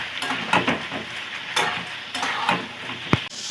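Potatoes and fried prawns stirred and sautéed in a pan for a potato-prawn curry, with a steady close sizzle and several distinct scraping stirs of the spatula against the pan, no voices.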